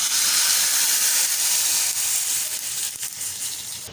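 Hot tempering with curry leaves is poured into a Karnataka-style buttermilk curry. A loud, close, broadband hissing sizzle runs throughout and eases slightly toward the end.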